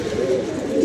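Fancy pigeons give a short, fairly loud burst of throaty cooing that lasts under a second.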